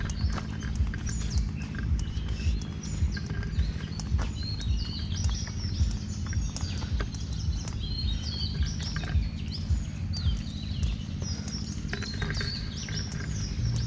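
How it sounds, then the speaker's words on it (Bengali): Scattered bird chirps and calls in a dense forest sound throughout over a steady low background hum, some near and some distant, with soft rustling steps. "পাখির ডাক"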